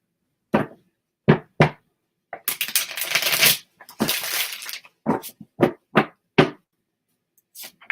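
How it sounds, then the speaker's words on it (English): Tarot cards being shuffled by hand, a few sharp riffles and bridging bursts that break into longer rustling runs, close and fairly loud with brief pauses between. "I'm just going to shuffle"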